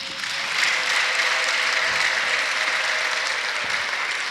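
A church congregation gives sustained applause in praise during a sermon, a continuous wash of many hands clapping at a moderate level, with no talking over it.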